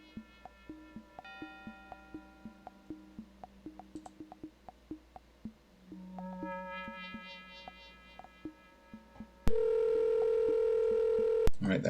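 Telephone dialing in the video game Amazon: Guardians of Eden: a steady run of short keypad tones and clicks, then a loud sustained dial-type tone near the end, with faint background hum.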